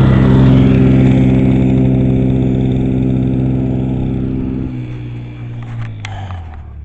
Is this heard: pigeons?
no